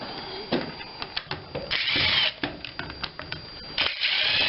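A power drill backs screws out of the case of a Skilsaw SPT77WML worm drive circular saw, with short, loud whirring bursts close by separated by brief pauses.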